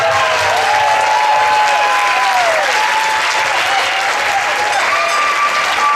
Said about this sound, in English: you will earn a well-deserved round of applause as you take your third strike